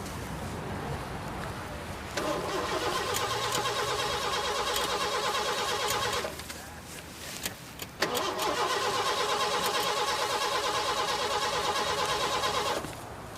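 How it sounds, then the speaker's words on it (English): A car engine cranks repeatedly without catching, two long bursts of steady rhythmic churning split by a short pause, loud and close with no talking. "Yeah, the car won't start"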